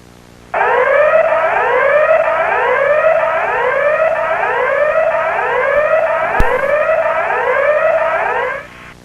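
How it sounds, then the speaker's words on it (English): A loud electronic fire alarm sounds continuously, a high warbling tone repeating in rapid rising sweeps for about eight seconds before cutting off. "The fifth alarm is the fire alarm, which will sound a high, two-tone note as follows."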